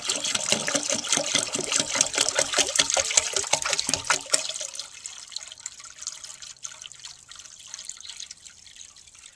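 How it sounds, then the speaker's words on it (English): Water pours from a jug into the tank of a 1948 Standard compact toilet, a loud steady splashing trickle for about four seconds that then fades to quiet drips and faint dribbling. "It takes just under 4 gallons of water to fill this tank to the water line."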